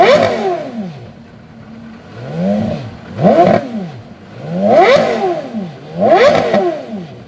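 Porsche Carrera GT engine revving hard, four quick sharp throttle blips that climb and fall fast in pitch, loud and close, evenly spaced with short pauses between them.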